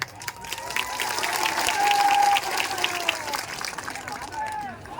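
A large crowd at an outdoor political rally in 45-degree heat applauds and cheers in a loud, sustained burst that swells and eases, with voices and talk mixed through it.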